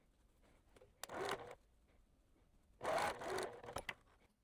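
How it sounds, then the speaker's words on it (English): A sewing machine stitches a seam across quilt fabric in two bursts of steady mechanical whirring, each about half a second to a second long, with quiet pauses between and no talking. "now I am going to sew this right here across, being careful not to catch any of these other fabrics in the meantime"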